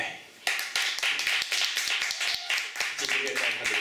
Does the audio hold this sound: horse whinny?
no